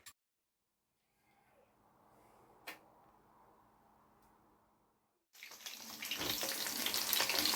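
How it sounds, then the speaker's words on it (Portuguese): Milkfish frying in a pan: after a quiet low sizzle, a loud, dense, crackling hiss breaks out and keeps rising, close and steady. "It's frying"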